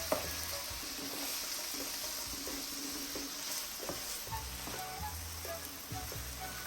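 Basil chicken sizzling loudly in a hot pan, a constant dense fry hiss with soft scrapes and knocks from a utensil mixing it, close and continuous, with no talk.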